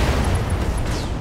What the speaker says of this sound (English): machine gun ammo explosion.